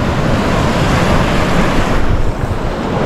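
Ocean waves break and wash continuously on a beach at Nusa Penida, Bali, a loud, full roar of surf mixed with heavy wind buffeting the microphone.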